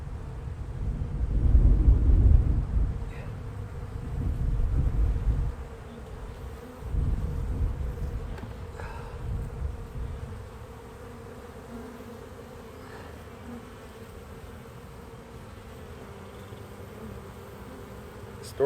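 A low, steady honeybee buzz from an opened hive fills the air, louder at first and then settling into a softer continuous drone with a few faint knocks.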